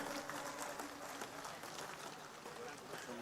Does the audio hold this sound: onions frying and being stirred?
no